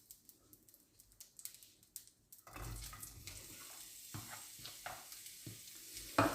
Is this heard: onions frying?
yes